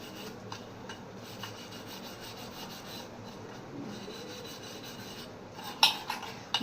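Dishes are washed by hand with homemade dishwash liquid: quiet, steady scrubbing and rubbing, then a few sharp clinks of utensils near the end, with no one talking.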